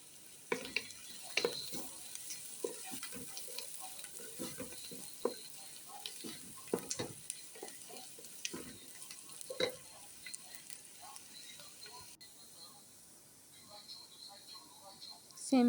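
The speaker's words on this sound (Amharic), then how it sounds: "ከዛ እዚህ ጋር ነጭ ሽንኩርት ጨምራለሁ።" Chopped garlic frying in a pan gives a soft, steady sizzle, broken by frequent scraping and clinking of a utensil as it is stirred.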